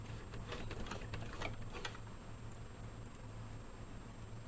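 A sewing machine set to its longest stitch length runs as it stitches bulk hair down, giving a faint, quick ticking patter over a low steady hum, quiet and without speech.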